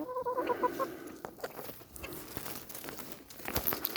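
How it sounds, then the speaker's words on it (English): Chickens cluck and chatter softly nearby at a backyard potato patch, with brief rustling and crinkling among the birds and no voices. "it is gathering all the chickens here now"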